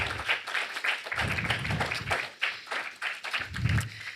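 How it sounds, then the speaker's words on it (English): An audience applauds panelists after a panel discussion on cooperatives in St. Kitts. Dense, even clapping from a modest crowd continues for several seconds at moderate distance, with no voices. "Now, I'd like us once again to give our panelists a grand round of applause."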